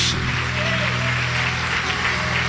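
A church congregation applauds in a dense, steady wash of clapping that fills the room, with a voice faintly underneath.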